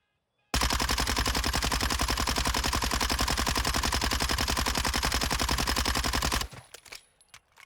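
Mini Bak submachine gun from Call of Duty: Modern Warfare II fires one long, unbroken full-auto burst of about six seconds. The rapid, even shots are loud and close, then stop abruptly, leaving brief faint clatter.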